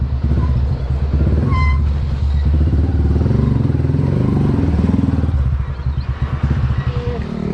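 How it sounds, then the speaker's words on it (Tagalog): A motorcycle engine runs close by with a loud, continuous clattering putter, while a person talks over it throughout. "napainit ko na rin yung makina ni Mia"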